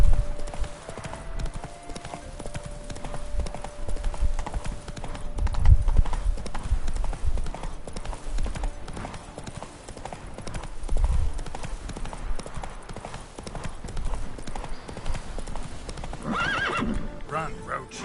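Roach, the horse in The Witcher 3, gallops with a steady rhythmic clatter of hooves, and a whinny rises near the end, while someone talks casually over the game sounds.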